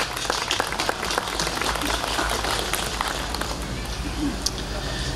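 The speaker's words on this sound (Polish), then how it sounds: "Serdeczne brawa." Crowd applause at an outdoor Polish harvest festival (dożynki) in Kałuszyn, a steady wash of clapping throughout under a low rumble of wind or outdoor noise.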